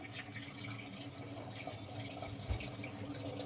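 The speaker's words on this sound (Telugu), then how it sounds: "ఈ ముక్కలు కట్ చేసుకున్నవన్నీ ఇదిగోండి, నీళ్లు పోసుకుందాము." Water is poured over cut bitter gourd pieces in a kitchen, making a soft, steady splashing rush that stays faint throughout.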